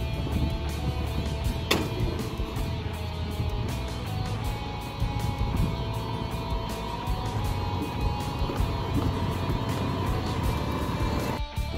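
A motorbike engine runs with a steady, close-up drone while the bike is being loaded onto a boat, with faint clicks and knocks over the continuous hum.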